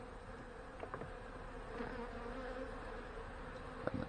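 Honey bees buzz steadily and close by at an open hive of medium boxes after the colony swarmed, a dense continuous hum with a few louder individual passes.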